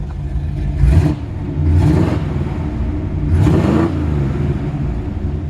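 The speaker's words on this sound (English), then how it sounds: "So it's got a great sounding exhaust." A 1957 Chevrolet 210 Handyman Wagon revs loudly through its exhaust, with three distinct throttle blips rising over a deep, rumbling idle, heard up close.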